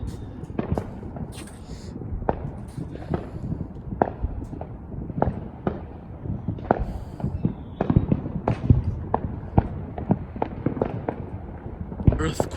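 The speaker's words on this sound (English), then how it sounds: "That was the loudest fireworks scream I think you guys might have heard." Fireworks outside a house on the Fourth of July, with a rapid string of sharp bangs and crackles, some near and loud, others fainter, popping irregularly with voices in the background.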